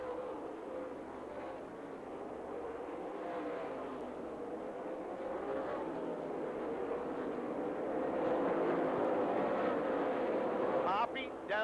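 NASCAR stock cars racing at Rockford Speedway in Illinois roar past in a pack, a sustained loud engine drone that swells as the cars blow by, with a race announcer talking over it throughout.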